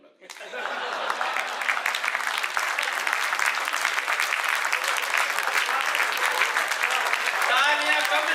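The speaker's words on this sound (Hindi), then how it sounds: "तालियां कम है।" A crowd at a live comedy or poetry performance breaks into applause, clapping that swells quickly from silence and holds steady and dense for several seconds, with faint chuckles mixed in.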